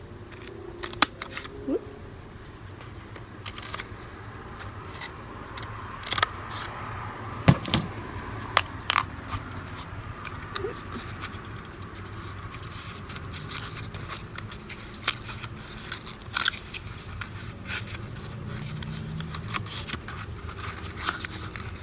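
Scissors cutting and creasing cardboard for seed starters, a string of short snips and scrapes over 20 seconds under a soft room hum, with a brief spoken exclamation partway through.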